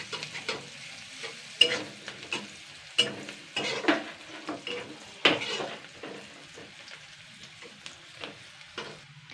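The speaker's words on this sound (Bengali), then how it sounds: "পেঁয়াজটাকে জাস্ট আমি দুই মিনিট একটুখানি ভাজা করে নিয়েছি" Onions frying in oil in a pan, soft sizzling beneath irregular scrapes and clinks of a utensil stirring against the pan, close by and without talk.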